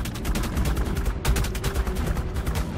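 Rapid, steady turret fire from a Velonasaur in ARK: Survival Evolved, a dense stream of sharp repeated shots over about three seconds with a brief break midway and no talking.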